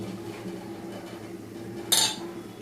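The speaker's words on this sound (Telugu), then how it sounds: "తిప్పుతున్నానండి." Ginger and onion being stirred in a pan, a low quiet cooking hum broken by one sharp metallic clink of a utensil against the pan near the end.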